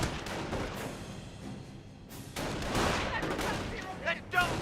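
Rattling bursts of sniper and MG42 gunfire from the World War II strategy game Company of Heroes fill the scene in irregular volleys, with louder shots near the end, layered under a commentator's voice.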